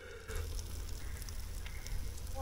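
A 1500 watt air fryer running off an EcoFlow Delta 2 portable power station, giving a steady close fan whir with a constant low hum and faint hiss throughout, no talking.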